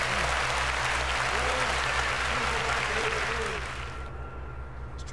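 A crowd applauds steadily and loudly in the video game Red Dead Redemption 2, the clapping thinning slightly toward the end over a low droning hum.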